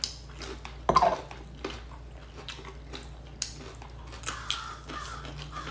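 A bird calls loudly outdoors with a few harsh, crow-like caws spaced apart, alongside faint clinks of dishes and cutlery from a meal nearby.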